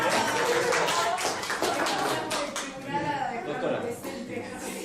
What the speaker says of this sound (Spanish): Un aplauso para la microjuris.